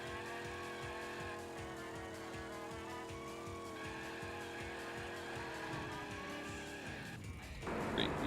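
Karts race in the Crash Tag Team Racing video game, engines droning continuously with squealing tires and skidding during brake boosts, game music running underneath, and a louder burst at the close.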